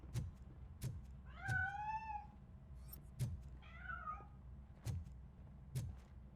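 A cat hiding inside a piano in the game RoboCop: Rogue City gives two drawn-out meows over a background of sharp, regular knocks, with no one speaking.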